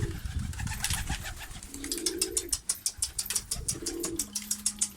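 Pigeons of mixed breeds in a coop, cooing and calling with soft wing flaps and a quick rhythmic fluttering toward the end, close and continuous, with no talk.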